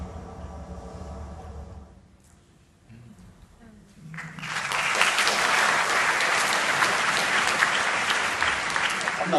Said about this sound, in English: I'm not sure why you're applauding.